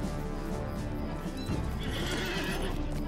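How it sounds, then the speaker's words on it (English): Horse in the game Lord of the Rings Online giving a loud whinny along with clip-clopping hooves, heard up close and continuous with no talking. "Let's get on our horse."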